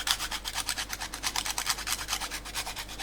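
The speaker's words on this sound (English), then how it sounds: "I grate now the cheese on top." Steady rhythmic rasping of cheese being grated onto a chicken casserole, close up with even back-and-forth strokes and no voices.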